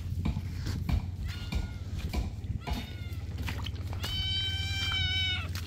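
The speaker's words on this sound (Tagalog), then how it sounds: "Yung baga kuting, pusa na oh." Several high, thin meows from a small kitten, the last one longer and louder, over a low steady hum and faint background movement.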